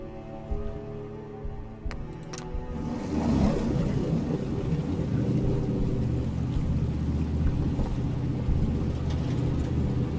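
A boat in the video game Fallout 4, with a few clicks at first, then a steady engine rumble and rushing wash that swell and hold loud for the rest of the clip.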